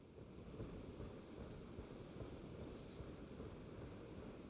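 Wind blowing across the lake region of Liurnia in Elden Ring, a continuous low, rushing ambient roar with a faint airy hiss, steady and fairly quiet, with no voices.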